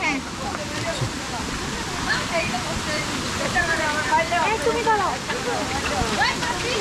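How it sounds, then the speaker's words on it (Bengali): Rajai waterfall in Sunamganj pours down in a constant, loud rushing wash, with voices talking over it throughout. "কি সুন্দর ঝর্ণার শব্দ আর ঝর্ণার পানি পড়ছে"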